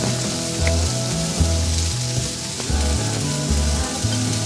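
Pork stir-fry with broccoli and cauliflower being tossed in a pan: steady close sizzling with a bright hiss, under music with a plodding bass line.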